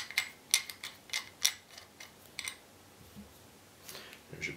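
A screw being undone on a Hi-Standard Dura-matic .22 pistol gives a series of small, sharp metallic clicks in an uneven rhythm, close and fairly quiet, with no talk.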